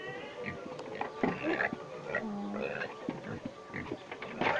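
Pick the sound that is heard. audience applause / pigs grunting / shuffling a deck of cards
pigs grunting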